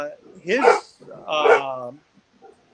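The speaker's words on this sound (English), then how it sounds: "sorry about the dogs barking." Dogs bark during a live fishing talk show: two short, yelping barks close together, with a voice also present.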